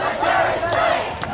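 A protest crowd at a snap rally in Sydney shouts and roars loudly, a close, sustained mass of voices with a few sharper cries poking through.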